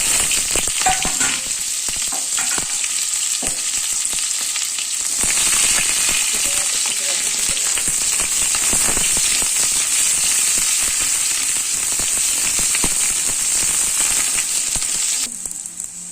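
Cumin, bay leaf, onion and garlic frying in hot oil for Manipuri-style dry rajma, a loud, steady sizzle with dense crackling and spitting that runs unbroken and cuts off near the end.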